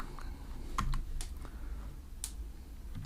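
Quick keystrokes on a computer keyboard, a short run of light clicks with a few louder taps, close and otherwise quiet with no speech.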